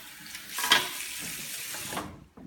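Running water pours and splashes through hair during a salon rinse after violet colour treatment, a steady broadband rush swelling around the middle and cutting off near the end, alone without talk.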